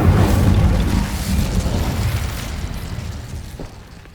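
The Incendio fire spell in Hogwarts Legacy bursts out as a loud, deep whooshing boom that rolls and crackles before gradually fading over several seconds.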